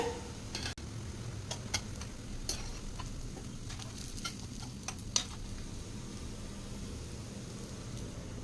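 Black-eyed pea cutlets fry in a pan with a steady, close sizzle and scattered small ticks and pops of hot oil, with no talking.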